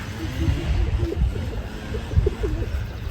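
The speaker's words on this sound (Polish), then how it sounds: "Mamy pierwsze gołębie." Soft, low racing pigeon coos repeat in short phrases over a muffled rustling background, with a few fluttery bursts as the birds land nearby.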